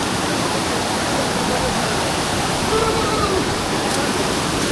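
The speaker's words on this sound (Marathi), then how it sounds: "चलो पुढून धबधबा" Kondeshwar waterfall at Kamshet in the monsoon roars as a steady, loud broadband rush of falling water, continuous and close, filling the whole scene with no other sounds standing out.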